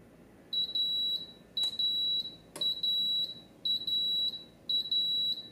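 An Aroma 20-cup digital rice cooker and slow cooker beeps as a four-hour slow cook finishes, five evenly spaced, loud, sustained electronic tones with a couple of clicks in a quiet kitchen.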